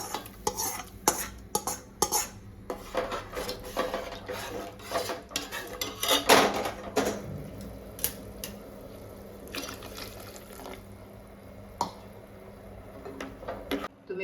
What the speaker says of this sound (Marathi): आता आपण हा मसाला टाकूया डायरेक्ट रस्सामध्ये. आता हा भाजलेला मसाला आपण याच्यात टाकूया.